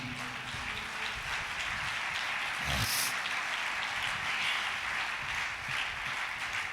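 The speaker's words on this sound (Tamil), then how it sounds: "நல்ல கைத்தட்டி" Congregation clapping steadily during a Tamil Christian church service, a dense, continuous patter of many hands that stays fairly even throughout, with a brief louder burst near the middle and no clear talk over it.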